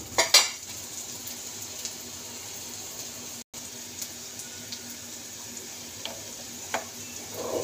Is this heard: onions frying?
yes